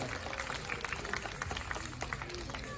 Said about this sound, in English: Let's give a round of applause to Bulan for such a wonderful flight